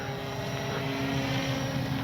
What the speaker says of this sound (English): All right, we're going to do a stall takeoff